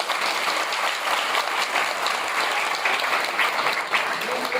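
School audience giving loud applause after a program of Indian folk dances from Punjab, Gujarat, Maharashtra and Rajasthan; a dense, continuous roar of many clapping hands filling the hall for several seconds, with a faint voice underneath.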